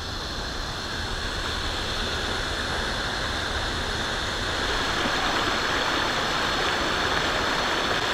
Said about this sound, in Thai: น้ำตกอยู่ด้านหลังครับสวยงามมากครับ